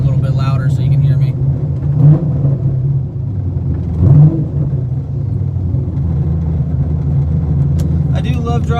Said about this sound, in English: I know this car is crazy loud